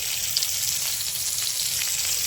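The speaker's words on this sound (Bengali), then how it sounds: "তা মাছ ভাজা চলছে" Fish frying in a pan, a steady close crackling sizzle of hot oil that carries on evenly without a break.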